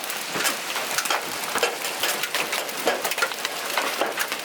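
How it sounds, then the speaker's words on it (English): Heavy hail pelting down outside an open doorway, a dense, continuous clatter of ice striking hard surfaces, loud and close with sharp individual impacts popping out of the steady roar. "We got some serious hail."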